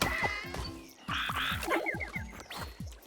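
Frog creatures in the video game Everything is Crab croak in a quick repeated series of gulping calls, loud and close, layered with chirpy game sound effects.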